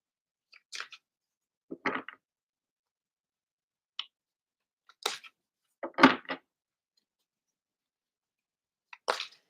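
Cards being shuffled at a morning coffee-and-magic table session: several short, dry riffling bursts separated by quiet gaps, close and fairly soft, with no talking.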